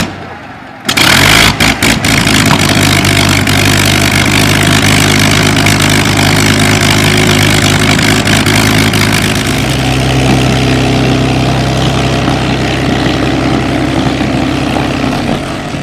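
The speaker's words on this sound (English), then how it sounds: "No, it sounded like he aborted takeoff." Propeller aircraft engine at an air show during an aborted takeoff, a loud sustained droning roar that starts abruptly and holds steady near the microphone, shifting pitch partway as the power changes.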